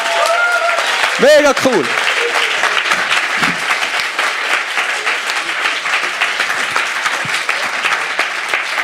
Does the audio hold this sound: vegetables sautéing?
no